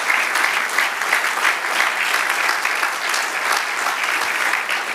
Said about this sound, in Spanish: Sí, aplaudámosle grande al Señor.